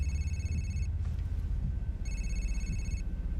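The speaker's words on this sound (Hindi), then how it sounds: "किसका फोन बज रहा है?" A telephone rings in two electronic bursts separated by a pause, over a low, steady background hum, in an action thriller film.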